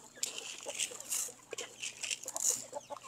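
Rhode Island Red chickens eating feed for the first time, with soft clucks and rapid pecking taps scattered close by, set against a steady low background hum.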